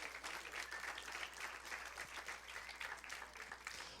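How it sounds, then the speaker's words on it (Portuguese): A church audience breaks into steady applause after a sermon's prayer, a dense, even crackle of many clapping hands that holds throughout, fairly distant and soft. "Dá uma salva de palmas a esse Deus."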